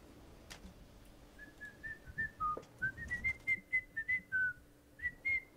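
A person whistles a meandering, sarcastic tune in short rising and falling phrases, clear and fairly close, alone over a quiet background.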